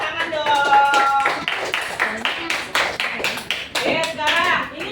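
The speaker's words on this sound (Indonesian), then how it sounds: "Tepuk tangan dong." Children clap their hands in a classroom lesson, a burst of sharp, dense, irregular claps lasting several seconds, close and fairly loud, with faint chatter mixed in.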